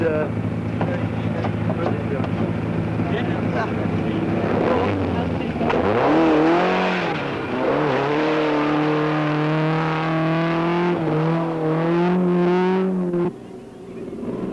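1977 Safari Rally car in Kenya, loud engine revving and whining through gear changes as it struggles through mud, with a narrator's voice over it, dropping off sharply at the end.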